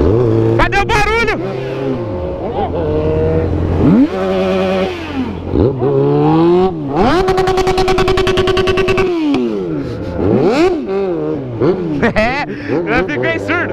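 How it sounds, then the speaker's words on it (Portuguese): Motorcycles with a stock exhaust among others, Yamaha XJ6, Honda CB1000 and Hornet, rev hard in repeated rising and falling engine sweeps, loud and close, with a rider talking over the throttle blips. "Minha moto é a que tem um barulho mais baixo, olha só!"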